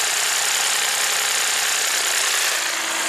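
A 2015 Lexus IS250 V6 idles at high RPM, a loud, steady engine drone with a dense, unbroken roar throughout.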